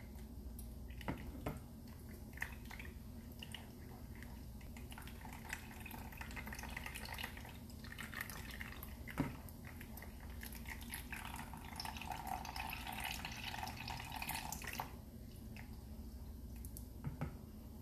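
Condensed milk from a small can is poured into a pot of boxed Kraft macaroni and cheese, giving soft wet squishing and dripping sounds, faint and close, with scattered clinks and stirring over a quiet background.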